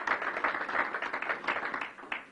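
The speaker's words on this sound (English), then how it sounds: "Let's give him a round of applause." An audience at a press briefing in Buffalo claps in a steady, fairly close round of applause that lasts a couple of seconds, dense and even before thinning out at the end.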